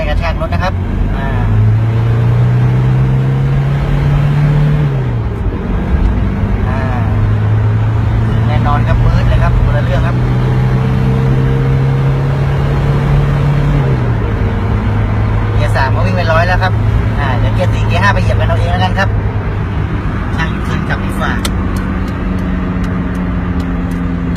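A Isuzu Dragon 2.8 turbo diesel pickup with an in-line injection pump drones steadily while driving, its engine note rising and dropping through gear changes, with someone talking over it throughout.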